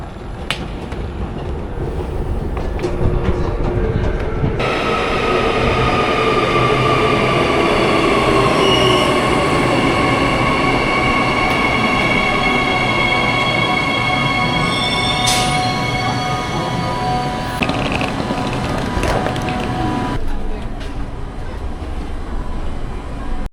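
A train pulls in with a loud rumble and drawn-out squealing wheels, then slows and quiets near the end.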